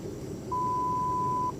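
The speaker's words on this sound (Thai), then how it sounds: "จะมีสัญญาณเตือนขึ้นมาเสียงเมื่อสักครู่นี้นะครับ" A single steady electronic beep from a BYD car confirming its tailgate height memory, clear and mid-pitched, lasting about a second over a quiet background hum.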